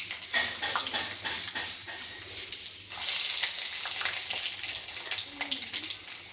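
Chickpeas and chana dal fry in hot oil, a steady close sizzle and crackle with a few brief stirring scrapes running throughout.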